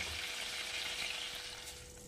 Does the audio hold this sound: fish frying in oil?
yes